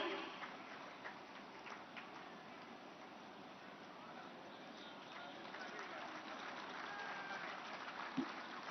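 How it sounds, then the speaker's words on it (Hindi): A crowd at an inauguration ceremony for a milk chilling centre in Azamgarh gives faint, distant applause, a low steady patter of clapping that runs under murmuring voices over a thin, muffled recording. "श्रीमती राजकुमारी जी, जरा जोरदार तालियां हो जाएं"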